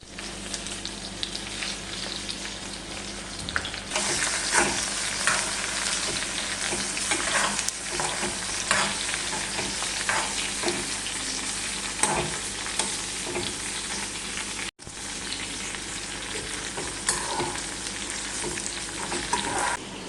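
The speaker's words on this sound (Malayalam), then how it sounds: "നമ്മളിപ്പോൾ ഇട്ട് കൊടുത്തത് മുളകാണ് ഈ വറ്റൽ മുളക് നല്ല രീതിയിൽ ഡാർക്ക് റെഡ് ആവുന്ന പോലെ ഒന്ന് മൂത്ത് വരും" Dried red chillies and shallots frying in oil in a pan, a steady loud sizzle for the whole stretch with occasional stirring scrapes and spatters, close up and with no voices.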